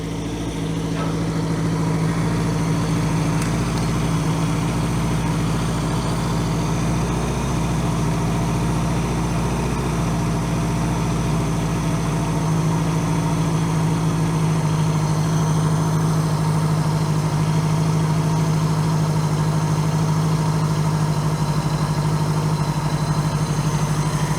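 A 1982 Honda GL1100 Goldwing motorcycle engine with a single-carb conversion idles steadily, a loud continuous low drone that holds even throughout.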